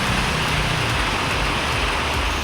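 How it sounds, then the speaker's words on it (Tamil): Heavy rain pours down steadily in loud, dense hiss on a street in Tamil Nadu, with faint traffic rumble beneath. "அறந்தாங்கி, ஆவுடையார் கோவில், கீரமங்கலம் சுற்றுவட்டார பகுதிகளிலும் கனமழை பெய்தது"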